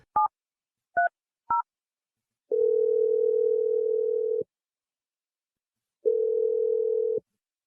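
Telephone keypad tones beep three times, followed by two long, steady ringback tones separated by a pause while a phone call is placed; no voices.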